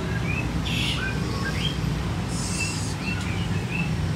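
A white-rumped shama (murai batu) sings loud, clear whistled phrases and quick chirps, repeating several times over a steady low background rumble with no talk.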